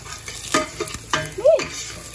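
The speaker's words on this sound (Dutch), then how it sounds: "Je masala een beetje bakken." Food with Maggi seasoning and masala is stirred in a hot pan, with several scraping strokes over a quiet sizzle of frying, heard up close.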